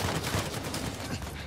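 Gunfire in the Uncharted 4 video game crackles as a rapid, dense burst of shots under a busy game mix, loud and continuous for a moment with no clear gaps.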